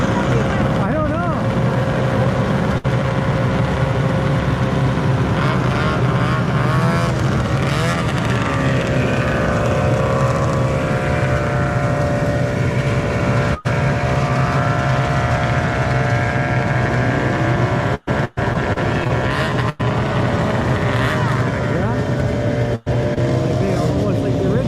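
Vintage snowmobiles at a trail ride road crossing, two-stroke engines droning and revving continuously nearby, with pitch swells as sleds pass, while people talk over the noise.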